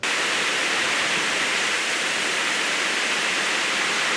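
A waterfall in a Kastamonu canyon roars as a steady, dense wash of falling water, loud and unbroken throughout, with no voices over it.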